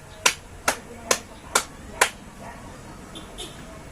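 A class claps together in unison five times, each clap sharp and evenly spaced about half a second apart, followed by faint scattered after-sounds in a quiet room.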